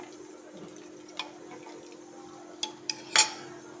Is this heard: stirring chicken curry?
yes